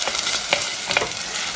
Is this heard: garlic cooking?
yes